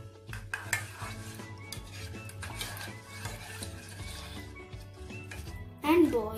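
Milk and coconut oil mixed in a pot, with clinking and scraping of utensils against metal and soft stirring, close by, while a person talks.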